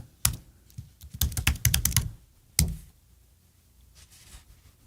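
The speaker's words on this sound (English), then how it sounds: "And confirm I'm typing it right." Quick bursts of keystrokes clack on a computer keyboard, a flurry of taps in the middle, then a lone press and faint clicks trailing off.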